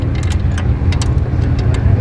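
A V8 engine running on only seven cylinders idles roughly with an uneven, lumpy throb, close and loud, its rhythm stumbling from the missing cylinder.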